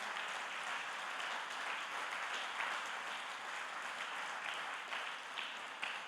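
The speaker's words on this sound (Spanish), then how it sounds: "Dele un fuerte aplauso al Señor." Sustained applause from a church congregation, a dense wash of clapping that stays fairly even for several seconds, heard at a distance.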